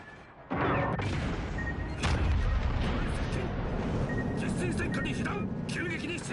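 Naval gunfire in World of Warships Legends: a sudden loud broadside boom kicks in and then rolls on as a sustained heavy rumble, with a second blast soon after, while someone talks over the din.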